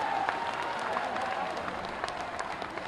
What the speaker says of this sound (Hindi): हमारे महाराज जी खातिर गड़गड़ा के ताली होनी चाहिए